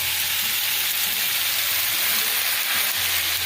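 Chicken tenders sizzle in a pan of onions and garlic, a steady close hiss of frying with a low hum beneath, no voices.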